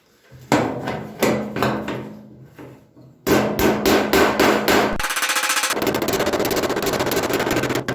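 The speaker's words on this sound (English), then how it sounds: "there's going to be lots of hammering in this area, lots of dollying" Sharp metallic hammer blows on sheet metal floor panels of a body tub, a few spaced strikes, then a quick run of hits, followed by a steady loud rapid hammering.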